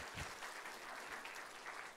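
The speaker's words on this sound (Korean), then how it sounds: "우리 종한이 한 박수 한번 쳐주시죠." A church congregation claps in a short burst of applause, a dense wash of hand claps held at a steady level, heard faint and distant.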